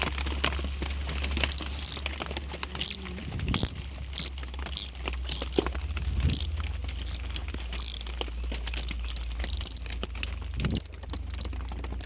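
Repeated ratchet clicks from a socket wrench tightening a bolt on a Chevrolet C10 Silverado, close and fairly loud, coming in quick bursts with short pauses between strokes.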